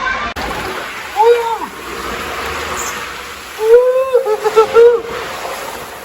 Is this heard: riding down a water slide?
yes